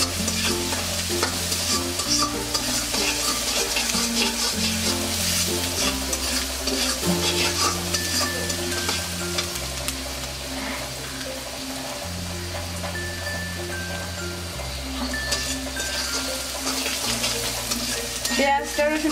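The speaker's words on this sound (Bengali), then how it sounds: "আমি পেঁয়াজ আর রসুনটা বাদামি করে ভেজে নেব।" Onion and garlic frying and being stirred until brown, a steady close sizzle with scraping stir strokes running throughout, while background music with a repeating bass line plays underneath.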